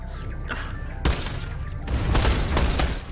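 Rapid bursts of gunfire in the video game Borderlands the Pre-Sequel, sharp cracking shots in dense overlapping volleys, louder and more sustained in the second half, no voices.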